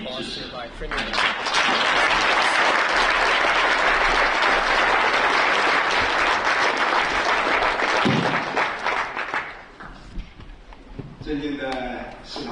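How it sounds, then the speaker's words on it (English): Warm, sustained audience applause for Prime Minister Starmer at a UK-China business council meeting during his China tour. The clapping swells quickly, holds for about eight seconds, fades out, and then a speaker begins talking. "We strongly need a one round of applause by Premier Minister."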